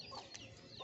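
Chicken clucking at a roadside spot near a shop, a couple of short clucks fairly close amid background chatter and ambient noise.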